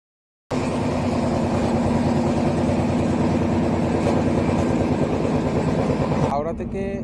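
The 13005 Amritsar Mail passenger train running from Howrah to Varanasi: a loud, steady rumble with a rhythmic clatter that starts abruptly and continues without a break, shifting slightly in tone near the end.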